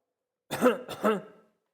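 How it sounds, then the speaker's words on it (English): Two short, rough coughs in quick succession, close and fairly quiet, with silence around them. "You'll see people who smoke coughing often like that"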